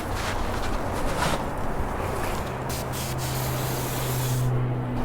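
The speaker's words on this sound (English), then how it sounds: "Hitting it with prep spray." A steady, close hiss from a prep spray can held over the headliner of a Mazda RX3, running continuously for several seconds with a faint low hum underneath.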